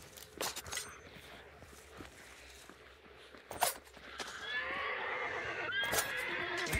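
A horse in the video game Hunt: Showdown whinnies in a drawn-out, wavering call after a few sharp clicks and thumps, set against quiet background ambience.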